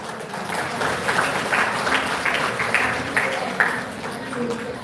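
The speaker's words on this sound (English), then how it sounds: "please give our biggest applause for him, Mr. Casey" Audience applause for a speaker at the close of an English-teaching workshop, a steady wash of many hands clapping at moderate loudness, with talk mixed in underneath.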